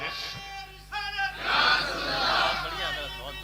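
A crowd at an Urdu religious gathering shouts a slogan back in unison after a lead call, a swelling roar of many raised voices that rises sharply and then tapers.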